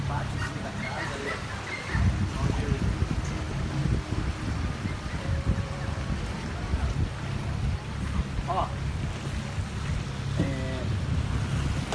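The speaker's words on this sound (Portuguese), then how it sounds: "Eu vou dar uma acelerada aqui pra gente sair no rio agora." Boat motor on a river, a steady low engine rumble with water and wind noise, brief voice fragments faintly under it.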